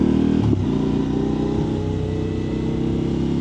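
A Honda CB1000 motorcycle passes by on a road, its engine a steady low drone under constant road and wind rumble, with a slight shift in tone as it goes past.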